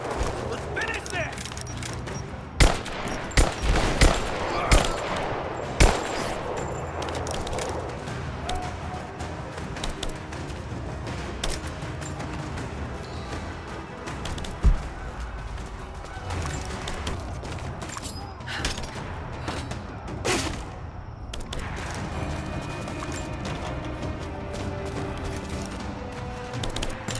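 Gunfire in the video game Rise of the Tomb Raider, a busy battle soundscape with scattered sharp shots and impacts over steady noise, with voices talking now and then across the long stretch.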